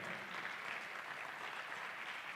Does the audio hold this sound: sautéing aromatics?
no